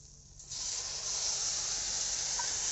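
Chopped taro stems tipped into a hot pan with oil and green chilies, a sudden loud sizzle that swells and holds as a steady close hiss.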